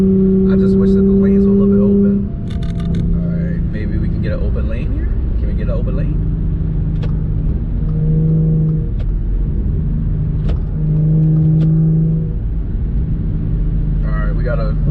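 A tuned Audi B8 S4 with an Integrated Engineering tune pulls at full throttle, its engine a steady loud rumbling drone with rising and falling tones as it accelerates, heard from inside the car while someone talks.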